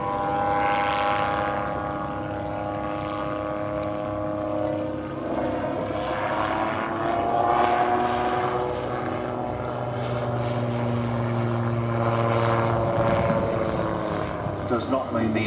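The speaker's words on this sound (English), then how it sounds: "This is a touring aircraft." An Autogyro Europe touring autogyro flies at an air festival, its steady propeller and engine drone running continuously with slowly shifting pitch, while a voice talks over it.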